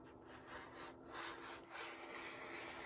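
Fabric trimmed along a ruler for a baby quilt top, likely with a rotary cutter: a steady close-up scraping rub in several repeated strokes, with no talk.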